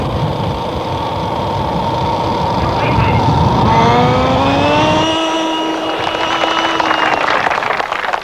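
A radio-controlled model aircraft engine drones through a slow-speed pass into the wind at a 1995 competition, its buzzing tone rising and gliding in pitch as it passes fairly close, with a voice talking over it for much of the time.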